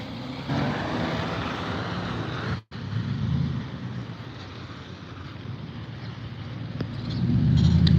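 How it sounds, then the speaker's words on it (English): Traffic on a busy street, passing vehicles forming a broad, continuous rumble with wind buffeting the microphone, a brief cutout midway, and the engine noise swelling louder near the end. "Ooh, it's busy down here. Y'all see all this traffic?"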